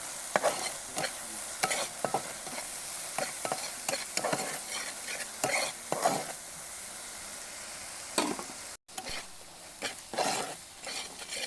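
Turmeric, dried chili powder, coriander powder and salt being stir-fried in a pan, soft sizzling under repeated scraping strokes of a spatula, close and steady with a brief dropout near the end.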